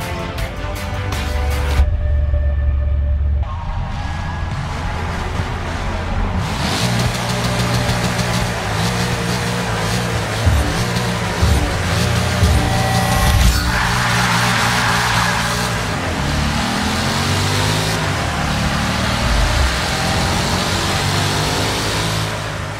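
Several cars in a racing video game are heard from close up. Their engines rumble and rev loudly and steadily throughout, with rising and falling pitch and a few abrupt changes in the sound, and nobody speaks.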